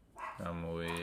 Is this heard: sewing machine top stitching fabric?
no